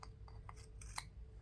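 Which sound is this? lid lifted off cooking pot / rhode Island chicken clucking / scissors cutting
scissors cutting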